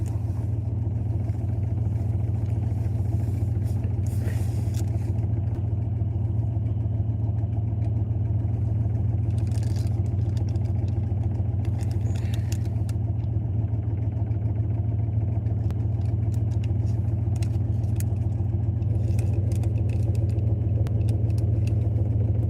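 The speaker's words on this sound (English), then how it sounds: "I advise myself to start the car up and let it warm up a little bit" A car engine runs at a steady, low idle after a cold start on a chilly day, a constant rumbling drone that holds evenly throughout with no speech.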